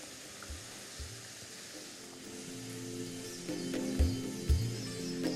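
Onions frying in hot oil for hilsa fish pulao, a steady crackling sizzle with a few soft knocks as they are stirred and lifted from the pan.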